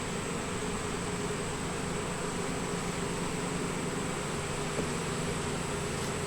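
Honey bees hum around an open hive during a beekeeper's inspection, a steady, dense buzzing drone that stays loud and unbroken throughout with no voices.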